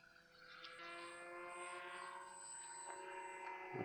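Radiolink Byme D RC plane with its gyro stabilizer on flies steadily overhead, its electric propeller giving a continuous high whine at moderate, fairly even loudness, with no talk.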